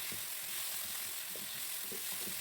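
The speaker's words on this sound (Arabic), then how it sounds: "وهنزل عليهم بمعلقه صغيره من الثوم، وهدي تشويحه تمام لحد ما يطلع ريحه الثوم" Small spoonful of garlic sizzling in a pan with chicken liver and gizzards, a steady soft frying hiss with faint stirring taps underneath, fairly quiet and continuous.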